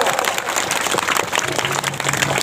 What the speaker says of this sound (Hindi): ताली बजा दो जोर से,